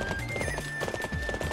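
A horse gallops in Warriors Orochi 3 Ultimate Definitive Edition, its hooves drumming in a quick, steady rhythm over a sustained game tone.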